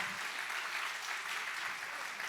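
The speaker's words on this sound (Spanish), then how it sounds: "Dale fuerte ese aplauso a nuestro Señor Jesucristo" A church congregation claps for Jesus Christ during a worship service, a dense, steady round of applause from many hands, fairly faint and without clear talk.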